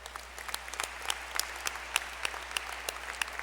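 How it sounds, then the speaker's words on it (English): A graduation audience at Farmington High claps for the student services staff, a dense, even patter of many hands heard from a distance in a large hall, with no voices over it. "we ought to give her a round of applause as well"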